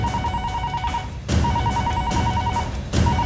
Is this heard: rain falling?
no